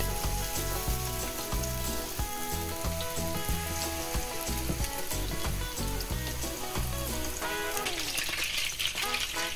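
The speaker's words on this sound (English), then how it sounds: "I fry them for about 1 or 2 minutes each side." Fresh salmon patties frying in a pan give a steady, continuous sizzle that runs throughout, mixed under loud background music.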